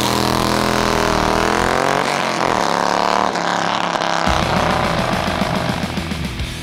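A Harley-Davidson Road King's new exhaust with S&S power tune duals roars up close, rising as the engine revs, then settling into a deep, pulsing idle burble.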